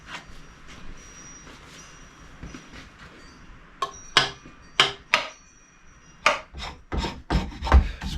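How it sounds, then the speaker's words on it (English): Lacquer being scraped off a wooden axe handle during a cabin axe build, heard as a run of sharp, rasping strokes, close and fairly loud, the later scrapes coming faster and in an uneven rhythm, with no talk over them. "Scrape all that lacquer off of there."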